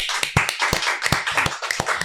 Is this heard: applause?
yes